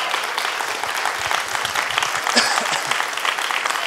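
A church congregation claps steadily together in a large room, the dense applause continuing throughout with a murmur of voices mixed in.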